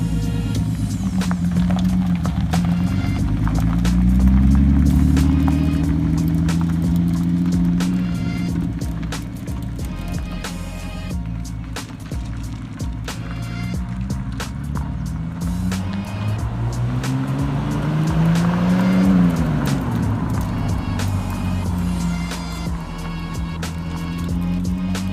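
A Japanese JDM car drives away with an engine drone that rises and falls through gear changes, loud at first and then a little quieter, with no talk.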